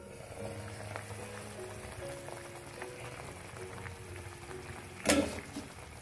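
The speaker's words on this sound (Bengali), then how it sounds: "লো টু মিডিয়ামে আমি মাছগুলোকে ফুটতে দেব," Pabda fish curry bubbling gently over low to medium heat in a covered pan, a steady soft simmering hiss with faint pops, then one brief louder clatter near the end.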